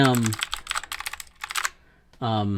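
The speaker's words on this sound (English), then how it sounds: "That's the keyboard." Quick, clacky keystrokes on a hot-swappable mechanical keyboard with a metal plate, typed in short bursts close to the microphone. Someone talks before and after the typing.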